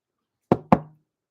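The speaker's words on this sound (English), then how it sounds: "A knock on the coach house door startled her out of her thoughts." Two firm knocks on a coach house door, close and distinct, the second following quickly after the first, with silence before and after.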